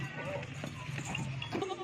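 Young goat kids bleat among a livestock herd offered for sale, short nasal cries rising over a background of people talking nearby.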